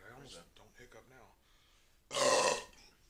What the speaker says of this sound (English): I just need to burp a lot.